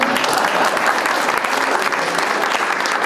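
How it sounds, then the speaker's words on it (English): A crowd claps for CSEA Southern Region building and trades members at a Rockland County GOP election night event, loud sustained applause rolling on evenly for several seconds. "clap for them anyway"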